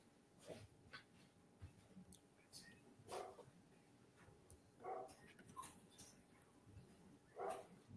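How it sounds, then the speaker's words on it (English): A dog barks faintly in the background at a farm home, giving a few short barks and whimpers spread out over several seconds under a low voice. "That's my dog in the background."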